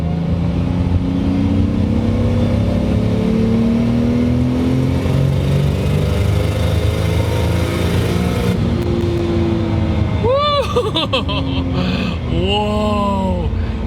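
A 520 hp 1JZ-engined Toyota Supra Mk3 pulls hard in third gear, its engine droning loud and steady from inside the car, then shifts with sharp rising and falling revs near the end.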